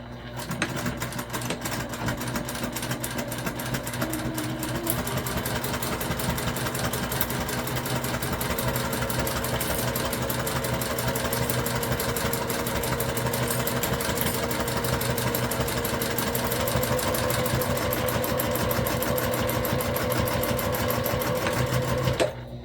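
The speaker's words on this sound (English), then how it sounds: "I'm going to sew from the canvas side." A sewing machine runs steadily and loudly, stitching through the canvas side of a mini backpack in one unbroken hum for the whole stretch, close up and without talk.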